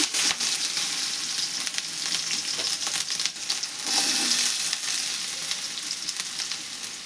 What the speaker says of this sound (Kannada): ಎಣ್ಣೆ ಒಳಗೆ ಫ್ರೈ ಆಗ್ಬೇಕು ನೋಡ್ರಿ